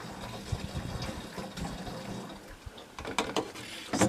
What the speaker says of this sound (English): Hand pump.